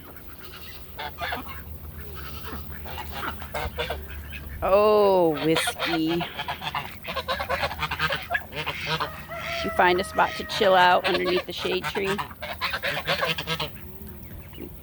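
Geese honking on a farm alongside chickens, ducks and pigs, loud, repeated honks in bursts near the middle and later, while someone talks calmly over them.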